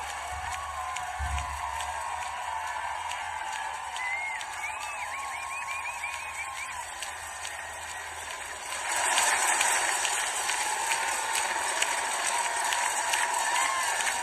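Spectators line the Ironman European Championship finish as Jan Frodeno comes home, a distant crowd murmur that swells into louder cheering and clapping partway through, with faint whistles and announcer-like sound in the background.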